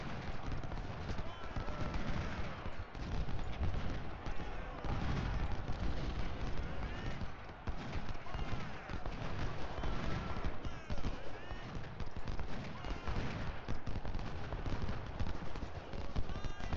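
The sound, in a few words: musket gunfire in Ultimate General: Civil War video game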